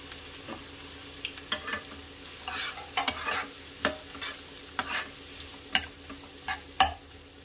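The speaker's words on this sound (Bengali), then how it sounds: "এটা একটু লাল করে ভাজা হবে।" Chopped onions frying in ghee in a wok, a steady low sizzle under intermittent scraping clicks of a spatula stirring, close and alone without voices.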